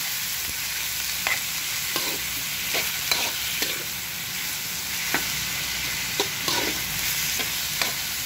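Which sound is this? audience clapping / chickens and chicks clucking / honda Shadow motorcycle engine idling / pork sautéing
pork sautéing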